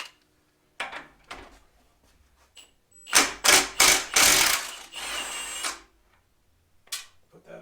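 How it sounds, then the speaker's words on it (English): Metallic ratcheting on a Detroit Diesel 671 engine nut comes in a dense burst of rapid clicks and clanks midway, with isolated taps and clinks before and after in an otherwise quiet space. "Let me get that nut off of there."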